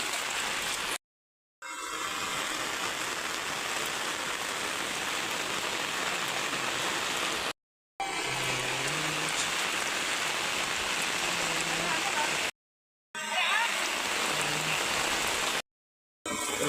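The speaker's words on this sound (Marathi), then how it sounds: "पाऊस पडता इकडे" Steady rain patters down in a dense, even hiss, broken by a few brief moments of complete silence.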